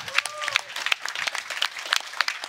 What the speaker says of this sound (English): I think we can get a round of applause for everyone.